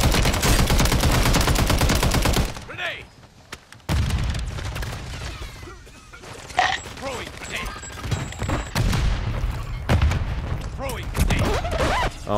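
Call of Duty MW3 battle royale in Urzikstan: a loud burst of gunfire at the start, then scattered shots, thuds and a grenade-like blast under players talking over voice chat.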